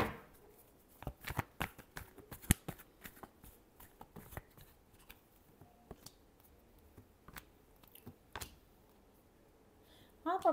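Tarot cards shuffled by hand during a reading: a run of sharp, dry riffling clicks and slaps in irregular bursts, close and fairly quiet over a hushed room, with no talking.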